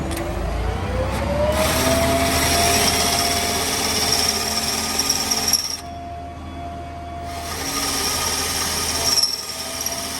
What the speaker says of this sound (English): The chuck on this drill is absolutely stuffed